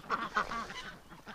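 A duck in a snowy winter swamp gives a quick run of honking quacks, two or three close, fairly faint calls within a moment.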